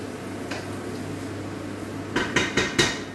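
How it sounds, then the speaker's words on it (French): Carrots stirred in a cooking pot with butter melting, a few sharp metallic clinks and scrapes of a utensil against the pot near the end after a quiet stretch. "Voilà, on va remuer un peu nos carottes."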